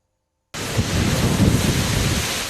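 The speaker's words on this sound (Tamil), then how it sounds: "தமிழகத்தின் பல்வேறு பகுதிகளில் பரவலாக மழை கொட்டி தீர்த்தது." Heavy rain with thunder in Tamil Nadu arrives abruptly after a short silence, a loud, steady broadband roar of downpour with low rumbling underneath, close and unbroken.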